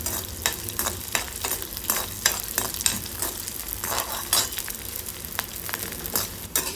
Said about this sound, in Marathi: आता डिंक तळून घेऊया थोडं थोडं डिंक टाकायचं आहे आणि तळून घ्यायचं